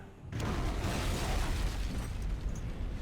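A loud rumbling blast erupts after a brief quiet start, then sustains as a heavy, roaring explosion noise of a helicopter being destroyed in the video game ARMA: Red Hammer.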